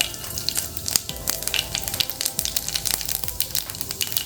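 Cumin seeds and urad dal frying in hot oil while making vermicelli upma, a close crackling sizzle with sharp pops and spits scattered irregularly throughout, no voices.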